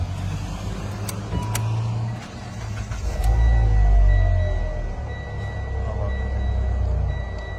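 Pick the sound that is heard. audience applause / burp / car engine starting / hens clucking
car engine starting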